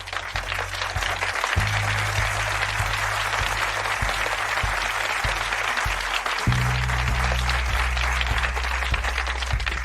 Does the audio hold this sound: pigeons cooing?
no